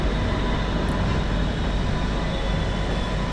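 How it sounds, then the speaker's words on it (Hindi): A locomotive on shunting duty moves the KSR Bengaluru Hubli Express KMT rake, giving a steady, loud, broadband rumble of engine and rolling stock with no distinct breaks. "KSR Bengaluru Hubli express KMT racks को शंट कर रहा है।"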